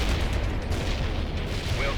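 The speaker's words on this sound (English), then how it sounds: "That's some explosion!" An artillery barrage in the real-time strategy game World in Conflict lands as a deep, rumbling explosion, a heavy sustained low roar that fills the whole clip.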